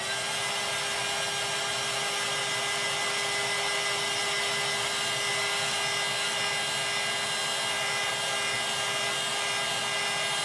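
A hair dryer blows steadily on craft pieces, a loud, even whirring roar with a constant high whine that holds unchanged from start to finish, close by and with no talk.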